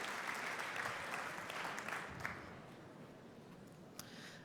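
Steady, moderately distant applause from a conference audience welcoming a speaker to the stage gradually thins as it goes on.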